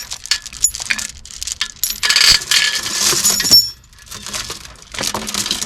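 A long metal chain is wrapped twice around the hooks of a front end loader, producing close, irregular clinks, rattles and jangles of heavy links knocking against steel, with brief quieter gaps between bursts.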